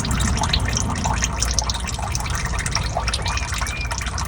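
Motor oil pouring out of a Ford F-150 drain plug during an oil change, a close, steady splashing liquid stream with dripping throughout.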